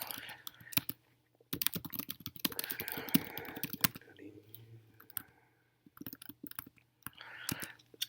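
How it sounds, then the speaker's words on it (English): Fingers type on a computer keyboard in uneven bursts of sharp, close clicks, broken by short silent pauses. "So start typing."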